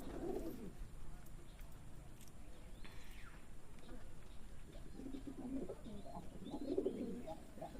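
Soft pigeon coos come in low bursts at the start and again near the end, faint against quiet background noise.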